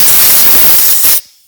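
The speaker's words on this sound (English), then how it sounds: "I'm gonna spray a carb cleaner every hole and I'll blow them out" Carburetor cleaner sprayed into the holes of a John Deere 22hp V-twin Briggs & Stratton carburetor: one loud, steady, close hiss lasting just over a second, then cutting off abruptly into near silence.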